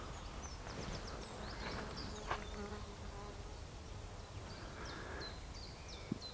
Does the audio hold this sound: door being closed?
no